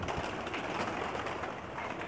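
Pakistani flying pigeons coo outdoors on a rooftop, with soft, muffled cooing mixed into a steady broadband background noise.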